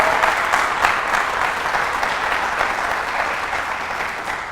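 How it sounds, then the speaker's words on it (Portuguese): Audience applause at a church gathering, a sustained wash of clapping from a large crowd, even and steady before easing slightly toward the end. "Dá um aplauso aí,"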